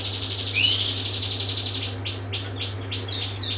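A small white bird chirps several times in quick, high tweets, fairly close and clear over a steady low hum, with no voices.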